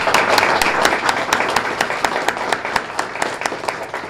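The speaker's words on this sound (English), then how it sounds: "we'll give you a great round of applause" Applause for a student of the month at a school ceremony, a loud, steady crowd of hands clapping close by, with sharp individual claps standing out and thinning slightly toward the end.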